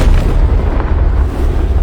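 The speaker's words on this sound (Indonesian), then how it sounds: "Dan boom, pabrik senjatanya meledak dahsyat banget sampai langit malam jadi terang benderang." A weapons factory explodes in an anime battle scene, a loud, sustained roaring boom with heavy low rumble that fills the whole moment without letting up.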